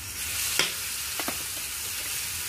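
Green chili paste, added after ginger and cumin paste, sizzles and fries steadily in a pan; a continuous hiss is punctuated by a few brief stirring scrapes.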